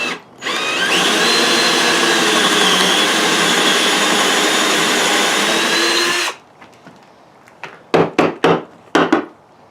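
A drill bit bores a hole in wood for a Sharpie holder with a loud, steady close-up whine lasting about six seconds, then stops, and several sharp knocks and taps follow.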